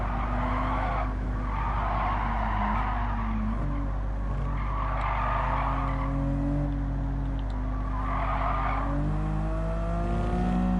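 A slow 1970s road car on comfort tyres in Gran Turismo 7 drones along, its engine pitch climbing and dropping through the gears while tyres squeal steadily beneath it.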